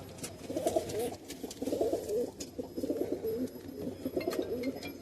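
High-flying Madrasi pigeons coo in a Kolkata pigeon loft, with repeated throaty, rolling calls close by in overlapping bursts over a low background murmur.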